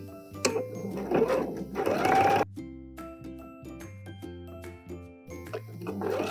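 A sewing machine stitches a vinyl purse seam in short bursts of rapid mechanical whirring, separated by pauses and softer clicks as the stitching stops and starts close by.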